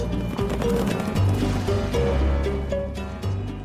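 Hooves clip-clop in a steady trotting rhythm, fairly close, with a brief neigh mixed in and a low rumbling background.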